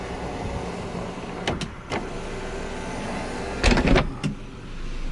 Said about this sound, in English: Sunroof opens up super smoothly.